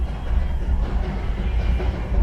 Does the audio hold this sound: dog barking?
no